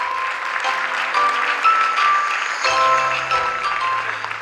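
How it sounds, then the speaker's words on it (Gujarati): Sustained audience applause at an inauguration event, a dense steady wash of clapping filling the hall throughout, with a faint tonal hum beneath. "હું બધાને વિનંતી કરીશ કે એમને બધાને તાળીઓથી વધાવી લો પ્લીઝ"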